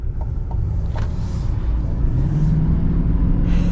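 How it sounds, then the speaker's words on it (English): A 2024 Chevy Silverado HD pickup crosses train tracks, with a deep, loud engine and road rumble and a few soft bumps early on as the wheels roll over the rails. "we're about to go over the train tracks here, so I guess we'll see the ride quality with this"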